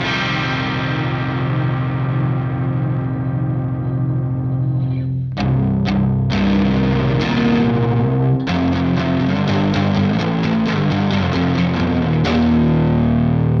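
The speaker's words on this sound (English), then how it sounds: "Generally in shoegaze, you wanna have something that's fuzzy, driven, and very atmospheric kind of guitar." Fuzzy, heavily driven electric guitar with a spacious, atmospheric shoegaze tone, a sustained wash of distortion that breaks into loud strummed chords, dense and present with no voices.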